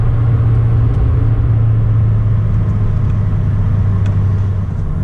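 A car engine fitted with an aftermarket cold air intake accelerates, a loud steady low rumble and drone that holds close and constant throughout, with no talk.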